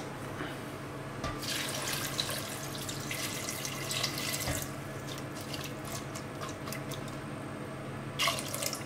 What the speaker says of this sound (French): On va couvrir avec de l'eau.